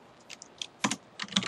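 Typing on a computer keyboard while saving a file in Notepad, heard as a few scattered close, crisp key clicks in a quiet room.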